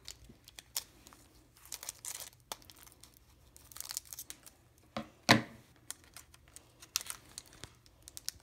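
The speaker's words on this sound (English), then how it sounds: "now he's gonna be opening the first booster pack of the video" Close, crinkly tearing of a foil trading-card booster pack wrapper with irregular rustles and crackles, one sharper rip partway through, and no voices.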